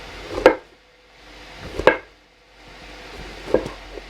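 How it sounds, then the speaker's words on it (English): Three sharp knife chops quarter tomatoes on a cutting board at slow, uneven intervals, with quiet pauses between each cut. "Now we're at the chopping phase. Basically what I do is I quarter my tomatoes"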